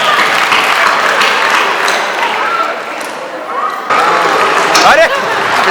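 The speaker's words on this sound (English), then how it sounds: "So let's give a big round of applause to Robo Ganesh sir." Audience applause for Robo Ganesh's four-legged dance performance at an Ugadi celebration, a steady wash of clapping and crowd noise that runs throughout, with voices mixed in.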